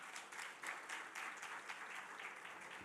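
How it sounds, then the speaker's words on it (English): Applause from an audience at an awards of excellence ceremony for a Lady Gordon Opportunity Center, a dense, steady clapping from many hands in a room, moderately distant and continuous with no talking. "Let's applaud them again."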